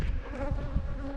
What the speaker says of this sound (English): all the bees are rather active right now